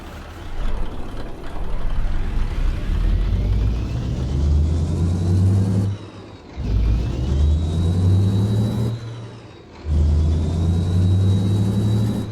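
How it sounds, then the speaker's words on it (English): Turbo whistle from a Kenworth W900A truck in American Truck Simulator, a thin rising tone riding over the deep engine rumble as it accelerates, cutting out briefly at each gear change and returning. "Got a really present turbo whistle"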